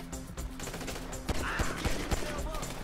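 Gunshots during a shootout in GTA V, several sharp cracks in quick succession mixed into a dense, busy game soundtrack.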